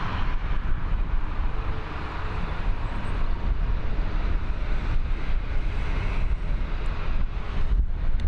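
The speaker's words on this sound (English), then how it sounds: "This wind has got a real bite to it." Cold night wind gusting across Dublin Airport, a loud, continuous rumbling roar buffeting the microphone without letup and with no one talking.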